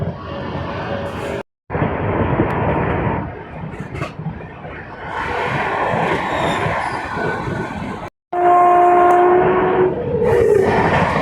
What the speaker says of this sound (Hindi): अब पीछे से आ रही है सियालदह राजधानी एक्सप्रेस, वो भी बहुत जल्दी अपनी अमृत भारत को ओवरटेक करेगी